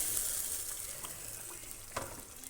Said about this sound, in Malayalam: എല്ലാം കൂടെ ഒന്ന് നന്നായി മിക്സ് ചെയ്ത് കൊടുക്കാം.